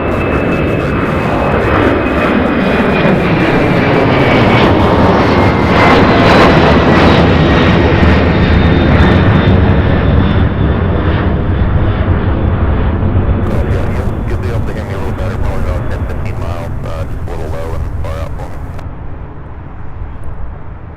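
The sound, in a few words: UPS heavy freighter jet taking off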